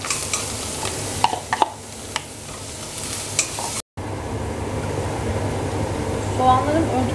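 An onion and carrot mixture sautés in melted butter in a pot, giving a steady sizzle broken by scraping stirring strokes, with a voice speaking over it.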